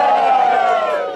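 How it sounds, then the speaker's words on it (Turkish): An audience bursts into a loud, sustained cry of joy, many voices yelling together in one bright, close roar that holds for about a second before easing off. "alkış değil. Sevinç çığlığı."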